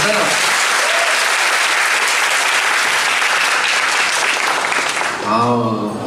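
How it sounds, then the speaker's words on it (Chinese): Enthusiastic concert audience applause for a string orchestra at a live show in Taichung, a dense continuous roar of clapping, with a speaking voice coming in at the very end. "欢迎掌声。"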